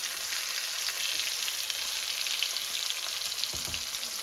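Slices of green tomato fry steadily in a hot pan, giving a dense, continuous sizzle and crackle with a few soft clinks near the end and no voices.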